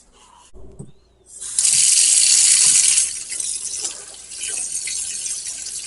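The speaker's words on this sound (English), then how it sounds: "we need to fill it with water" Tap water gushes into a pot holding corned beef and ground mustard, starting after a couple of soft clinks, then a loud steady rush that softens slightly as the pot fills, with no talking.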